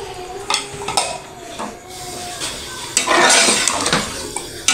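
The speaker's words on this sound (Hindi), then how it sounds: "कलेजी की भुनाई हो रही है" Goat liver (kaleji) roasting with spices in a pan, heard close up as a soft sizzle broken by clattering stirring and the scrape and knock of a spoon on the pan.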